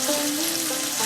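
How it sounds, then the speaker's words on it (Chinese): Salmon fries gently in a little oil in a pan over low heat, giving a short, even sizzle heard close and alone. "把三文鱼放到锅里煎烤"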